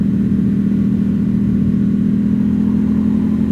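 A Ducati Panigale V2 Bayliss motorcycle fitted with an Akrapovic full exhaust runs close by with a steady, deep, throbbing engine note, loud and unbroken, with no talk over it.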